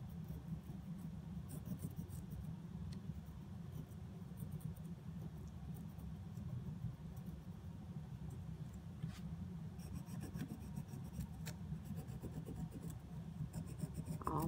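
A pencil pressing lines to transfer a reversed image onto a printing plate scratches steadily and softly up close, with faint taps and strokes and no talking.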